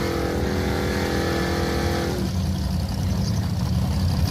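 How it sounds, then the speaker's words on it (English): Loud, roaring car engine at high revs with harsh tire noise, a steady droning tone that drops away midway into broadband hiss and rumble. "This is a burnout on the second run."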